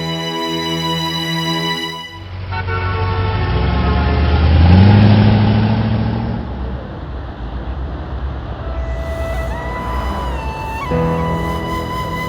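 Steady engine drone from a moving car, loud and sustained with a rising tone in the middle, after music fades out; no talking.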